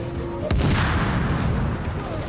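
Explosive rounds fire in the shooter game The Division: a sharp, loud blast hits early, followed by rumbling booms and a dense crackle of gunfire.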